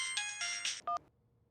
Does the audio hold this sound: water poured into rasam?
no